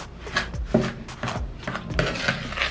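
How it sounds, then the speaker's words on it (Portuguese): Butter being mashed for M&M cookie dough, with a run of scraping, knocking strokes against a bowl at close range, uneven in rhythm and without talk. "Amassa bem a manteiga"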